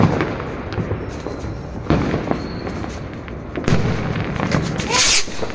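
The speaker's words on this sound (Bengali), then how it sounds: "আমার ফেভারিট বাজি।" Fireworks going off at a New Year celebration, a series of sharp crackling bangs and fizzing bursts, some near and loud, over a busy background with people talking nearby.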